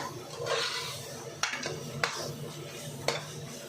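Mushroom biryani mixture with garam masala stirred in a pot, steady soft scraping with a few sharp utensil knocks against the metal, close and alone.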